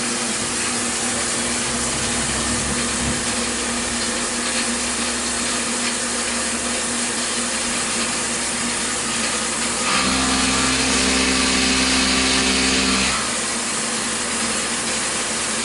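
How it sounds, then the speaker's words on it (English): A milling machine cuts a contour in both directions while machining a Z-axis ball nut mounting block, giving a steady, loud, broadband whir with a grinding edge and a deeper, heavier cutting tone for a few seconds near the end. No talking. "And this is some both way milling."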